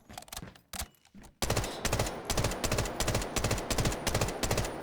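Automatic weapon fire in the Delta Force video game, a few sparse shots and then a sustained rapid burst of loud, evenly spaced gunshots, with no talk.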